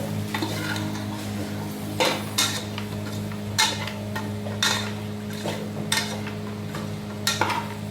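Curry leaves and tomato stirred in a pot for sambar, a metal spoon scraping and knocking against the pan in irregular strokes with a light sizzle underneath and a steady background hum.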